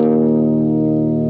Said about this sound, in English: Here's the clean tone of the amp.